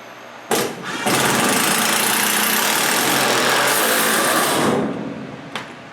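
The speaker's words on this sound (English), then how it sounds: "using the impact wrench to set the long screws" A loud, continuous mechanical whirring from an impact wrench driving long screws into a wood and steel power hammer base runs for about four seconds without a break, with short bursts before and after.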